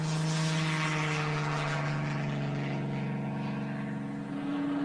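A Messerschmitt 109 German fighter drones past in continuous flight, its steady propeller engine roar loud and close throughout, with a sustained low tone that shifts slightly in pitch.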